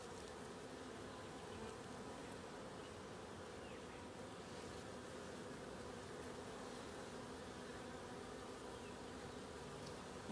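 A dense, steady drone of many disturbed honeybees buzzing close by in an open top bar hive, constant and unbroken, with no voices.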